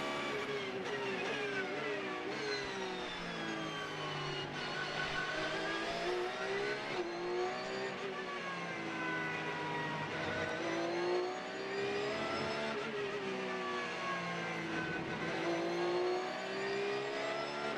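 Onboard a GT3 race car at Okayama during a Japan Cup race, the engine rises and falls through repeated accelerations and gear changes, loud and continuous with no voices.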